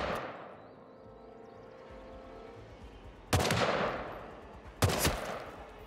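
Two sharp, loud gunshots crack out in the Hitman video game, roughly a second and a half apart, each followed by a short echoing decay over a quiet ambient background.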